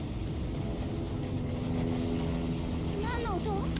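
A video game helicopter drones in a constant, heavy mechanical hum that fills the background. Voices talk over it throughout.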